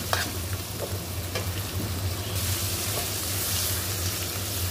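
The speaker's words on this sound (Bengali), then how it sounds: "এই তো টমেটোটা গলে গিয়েছে, অনেকটা ভাজা ভাজা হয়ে গিয়েছে" Steady frying sizzle of tomatoes in a pan, with occasional clinks of a utensil stirring; continuous and fairly close, no talking.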